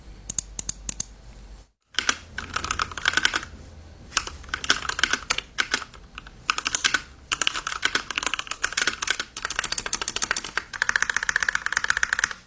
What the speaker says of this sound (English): The body's a GK61, and the switches are Gateron Black inks.